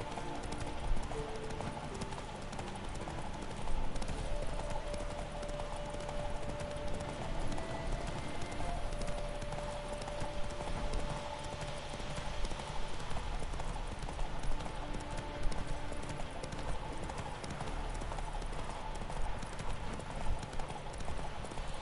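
Steady rapid hoofbeats of a galloping horse in a horse race in The Witcher 3: Wild Hunt drum on throughout, over a constant dense backdrop of game noise.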